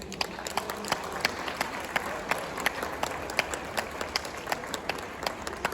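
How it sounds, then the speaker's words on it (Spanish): Audience applause at a book presentation, a steady patter of many hands clapping in a hall, moderately loud and continuous with no pause. "Vamos a recibirlo con un fuerte aplauso"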